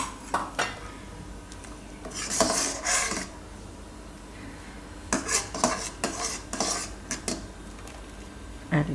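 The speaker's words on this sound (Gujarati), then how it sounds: "આપણે ગોળનો પાવડર એ નાખી દેવું આપણે અને મિક્સ કરી લેવું" Jaggery powder is stirred into bajra kheer in a pot, a spoon scraping and clinking against the metal in several short bursts separated by quiet pauses, close and fairly soft.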